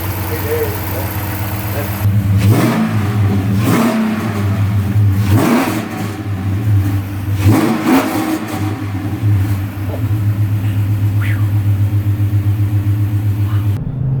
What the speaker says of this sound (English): there's a 30-mile-an-hour takeoff now after we got the exhaust done